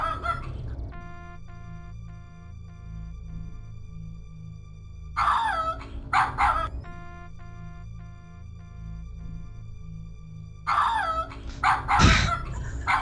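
A dog in the video game King's Quest VII barks in two short clusters of yips over steady looping game music with sustained tones, the barks clearly louder than the background.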